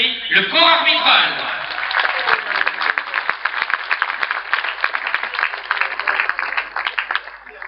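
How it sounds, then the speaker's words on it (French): A crowd at a pétanque event in Bellecour, Lyon applauds the referees, a sustained wash of clapping with a voice over a loudspeaker talking through it. "Merci d'applaudir dans son intégralité le corps arbitral"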